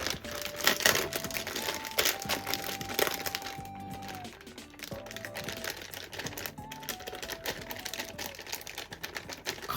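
A package of soy-pickled snap peas being unsealed by hand, giving close, irregular crinkling, crackling and tearing noises with sharp clicks through the clip, over a faint background of soft music.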